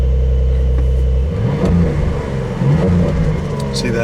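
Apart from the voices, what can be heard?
Porsche 911 Targa 4 GTS engine revving against rev limiter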